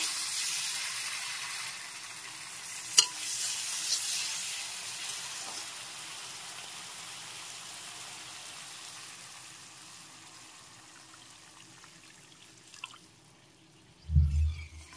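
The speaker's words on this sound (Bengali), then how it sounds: "এখন একটু নেড়ে চেড়ে সামান্য জল মিশিয়ে নেব।" Mustard paste curry is stirred in a pan as a little water is mixed in. A bright sizzle gradually quiets, with a sharp utensil clank early on and a dull knock near the end.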